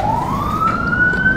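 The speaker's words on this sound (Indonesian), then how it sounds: "Orang sini sih sudah biasa dengan suara ambulan seperti ini." An ambulance siren wailing steadily with a slowly rising pitch, loud and fairly close, near a low-clearance underpass at the Pintu 10 dam in Tangerang, with no talk over it.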